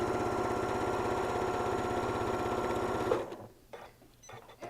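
A sewing machine stitches stretched elastic onto doll clothes, running in a fast, even mechanical rhythm for about three seconds before stopping, followed by quieter handling noises, close up and without speech.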